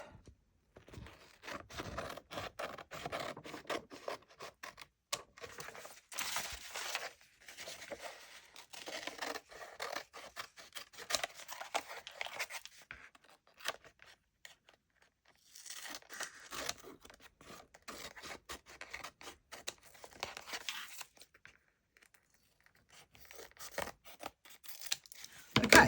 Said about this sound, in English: I'll just plop it down and trim it off.